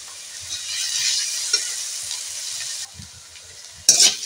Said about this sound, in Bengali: পেঁয়াজটা হাফ ভাজা হয়ে গেছে, দিয়ে দেব রসুন বাটা।